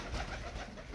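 An old tumbler pigeon coos softly in a short, low, steady burst, close by and alone.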